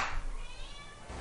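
A cat in the GTA 5 video game gives a single short meow, close and fairly clear, lasting about a second.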